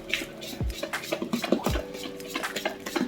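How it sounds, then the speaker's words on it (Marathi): A spoon stirs idli batter of ground dal and rice with a little salt, always in one direction, giving repeated soft scraping and clinking strokes against the bowl, close and steady, with no talking. "एकाच दिशेने छान मिक्स करून घ्यायचं ते पीठ."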